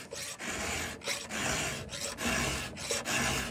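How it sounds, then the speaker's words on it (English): A chainsaw chain being sharpened with a hand cutting file, producing close, steady rasping strokes in a regular back-and-forth rhythm with brief pauses between them, no talk. "So, this is a nice clean up filing."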